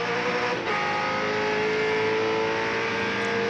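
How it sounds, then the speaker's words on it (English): A Ford Falcon touring car roars steadily at close range while riding on board at Calder Park during a 1997 Australian Touring Car Championship round, its engine note sustained and loud throughout with a brief dip early on. "Just listen to the roar of the Falcon."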